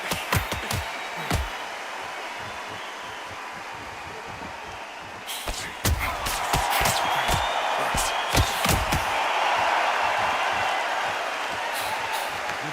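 Crowd buzzing in a boxing arena in the Undisputed video game, a steady murmur of many voices that swells louder in the second half, punctuated by sharp slaps and thuds.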